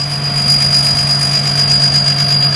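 A turbocharged pickup truck runs nearby, its steady, loud engine drone topped by a constant high turbo whine with no variation.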